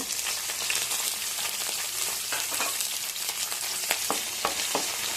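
Green chillies drop into already-hot oil in a kadai, setting off a loud, continuous crackling sizzle with sharp spits and pops that grow more frequent near the end.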